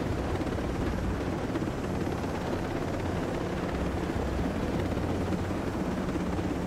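Helicopter in the Ghost Recon Breakpoint video game drones steadily from inside the cabin, a dense continuous rotor and engine rumble at constant loudness with no talking.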